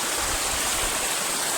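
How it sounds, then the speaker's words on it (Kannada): Clear mountain stream water running down from a hillside, a steady broadband rush and gurgle, close and continuous with no voices. "ನೋಡಿ ನೀರು ಯಾವ ಥರ ಬರ್ತಿದೆ ಅಂತ ಮೇಲೆಯಿಂದ ನೋಡಿ."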